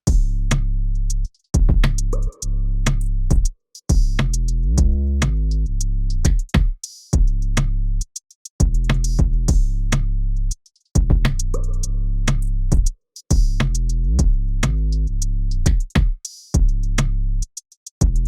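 Mixed electronic drum beat with hi-hat, clap, bass-heavy kick and soda pop percussion in vintage reverb, looping in a tight rhythm with punchy hits and brief gaps, loud and without talking.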